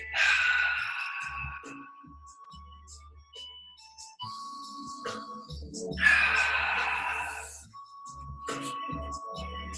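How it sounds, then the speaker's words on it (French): A person breathes in through the ribs and then exhales during a pilates exercise, making two long, soft airy breaths separated by quiet pauses. "je prends le temps de l'inspire par les côtes et j'expire"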